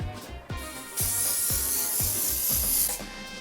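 An aerosol hairspray hisses in a long, steady burst while styling a 1940s pageboy hairstyle, with soft rhythmic rubbing or brushing thumps repeating beneath it.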